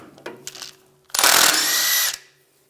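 A power tool drives a 21mm socket to remove a nut on the center link of a 1998-2002 Lincoln Navigator, a loud sustained whir of about one second following softer clicks and handling noise.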